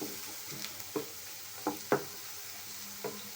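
Raw prawns frying with onions in a pan for a ridged gourd and prawn curry, giving a steady soft sizzle with a few sharper stirring scrapes and clicks close by, no voices.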